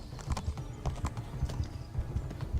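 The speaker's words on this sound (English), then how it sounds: "Okay, horsey." Horse hooves clip-clop at a steady galloping rhythm in Kingdom Come: Deliverance, the thuds close and even, with a faint whinny-like tone in the mix and no talking.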